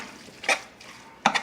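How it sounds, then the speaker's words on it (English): Sausage and hamburger meat being stirred in a pan: two short, close scraping strokes of a utensil over a soft background sizzle. "My sausage, you see, along with my hamburger meat, I'm stirring it up."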